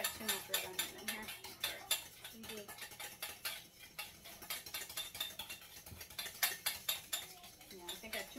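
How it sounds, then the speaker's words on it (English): Rapid rhythmic whisk strokes clatter against a bowl, mixing a sauce for Ronto wraps, steady and close with brief pauses between bursts. "then you're going to whisk this up"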